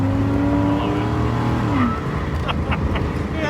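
A 1982 Pontiac Trans Am's V8 engine revs loud and close from inside the car on a drift track, its pitch climbing and then dropping at a gear change as the car slides sideways, with a short burst of tire noise near the end.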